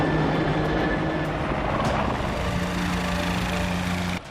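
A helicopter flying overhead, its rotor and engine drone steady and loud throughout, ending abruptly near the finish.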